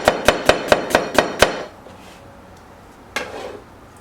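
Fast rhythmic chopping of a white onion, seven quick knife strikes against a cutting board in a steady run, then a pause and one more single cut, close and fairly loud with no talking.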